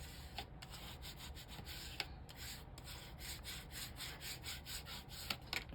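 Paper is rubbed down firmly by hand onto a junk journal page, giving a steady, faint, rhythmic scratchy friction with soft repeated strokes, heard alone and close.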